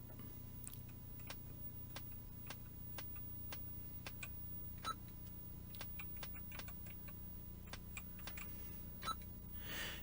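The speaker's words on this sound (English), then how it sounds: "So I can type keys." Keys typed on a Yamaha CX5M MSX computer keyboard, faint irregular clicks and taps over a low steady electrical hum.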